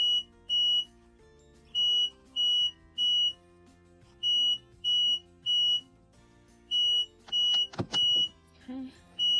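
A smoke alarm triggered by humidity from a swamp cooler beeps in regular pairs and triplets of shrill high tones, fairly loud, with a rustle and crackle near the end.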